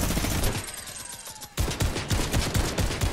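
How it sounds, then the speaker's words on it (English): Rapid sustained gunfire from a minigun in the Siphon 2.0 tank battle game, a dense continuous rattle that dips briefly mid-clip and then resumes at full loudness, with no talking. "Now it's my turn to minigun spam."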